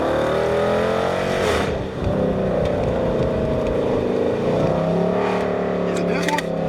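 A car revs its engine hard at a college car meet, a loud, sustained roar that rises and falls as it spins, with people talking close by over the noise.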